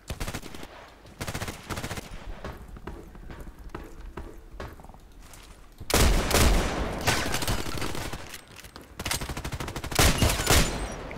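Rapid, dense gunfire from a shotgun in a sniper video game, with a steady stream of shots that grows louder and heavier partway through, then continues in loud bursts, with no talk.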